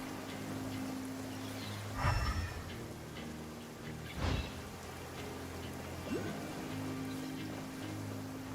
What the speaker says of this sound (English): listening to the rain cleanse the earth makes me feel safe